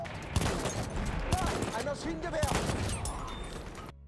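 An M97 shotgun fires in Battlefield 1, with several sharp, loud booming shots spaced about a second apart over ongoing battle noise and a few voices talking.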